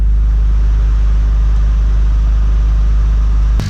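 A 2006-2011 Honda Civic engine runs after a thermostat replacement, a loud steady low idle drone heard close up, cut off by a brief bump at the very end.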